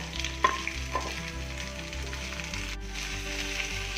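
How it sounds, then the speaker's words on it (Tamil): Four large onions, roughly sliced lengthwise, sauté in hot oil for a Chettinad-style chicken gravy, giving a loud, continuous sizzle and crackle. A few sharper pops come early, with no voices. "4 பெரிய வெங்காயம் இப்படி நீல வாக்கில் ரஃபாக நறுக்கி வச்சுருக்கேன். அது வந்து இப்போ நம்ம இதில் சேர்த்து வணக்கிக்கலாம்."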